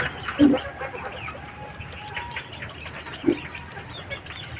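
Chicks and chickens on a farm range with growing pigs nearby; two short, distinct clucks or squawks stand out over a faint outdoor background with scattered soft chirps, and no speech is heard.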